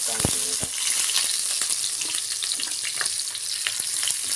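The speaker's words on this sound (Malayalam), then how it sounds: "നമുക്ക് ഈ സബോള അങ്ങോട്ട് വാരി അതിലേക്ക് ഇടാം" Chopped onions frying in hot oil in a pan for a shark curry, a steady close sizzle with scattered crackles and a few sharp pops, no talking.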